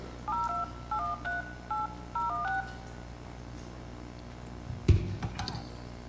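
A telephone keypad dials feature code *40 in several short clear DTMF tone beeps in a quick irregular rhythm, followed by a brief clunk and faint handling noise.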